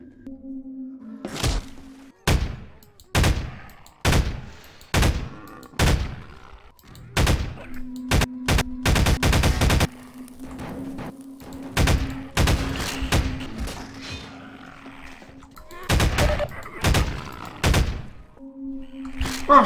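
Pulse rifle from Half-Life firing in a series of sharp, loud bursts, some in rapid clusters, with thuds and a steady low hum between shots.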